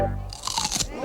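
A Vlasic pickle is bitten into with one sharp, wet crunch, close and loud, followed by brief chewing.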